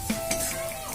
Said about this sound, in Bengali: নাড়াচাড়া করে দিন।